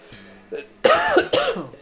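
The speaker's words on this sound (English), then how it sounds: "Sorry, my throat's itchy. Sorry, I cough in your ear." Two quick, harsh coughs close to the microphone, following a faint throat sound, each a sharp burst with a rough, raspy quality.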